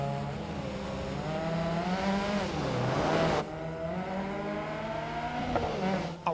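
A Lancia 037 rally car engine in the video game DiRT Rally 2.0 revs hard and climbs through the gears, with rising and falling engine pitch and a brief shift break midway, loud and continuous.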